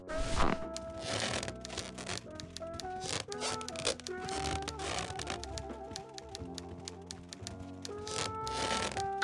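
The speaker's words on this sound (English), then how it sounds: "It's a hole punch." A hole punch in Grim Fandango Remastered snaps and clunks repeatedly in an irregular run of crisp mechanical clicks and crunches, heard up close over soft tonal game music.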